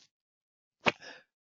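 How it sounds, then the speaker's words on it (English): A single sharp sneeze bursts out close and loud after near silence, followed by a short breathy trailing tail. "got to sneeze"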